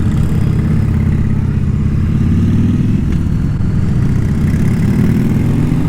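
A motorcycle engine running steadily, a loud, close, low throbbing rumble that holds constant throughout without clear revving.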